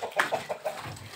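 Chickens clucking in a farmyard: a quick run of four or five short, close clucks followed by a softer, lower murmur, with no talk over it.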